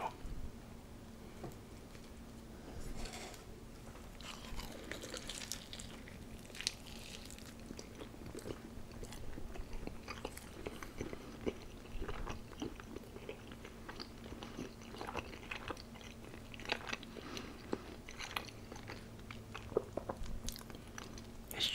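Close, quiet chewing of a breakfast chorizo burrito with cheese: soft repeated bites, crunches and squishy mastication sounds in an irregular rhythm, with no talking.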